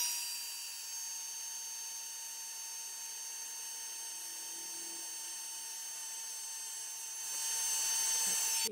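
A heat tool whirs steadily with a high-pitched whine while heat setting black embossing powder on a Halloween haunted house card, the tone holding close and even before growing a little louder near the end.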